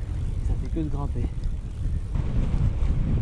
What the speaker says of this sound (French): Ce putain de vent.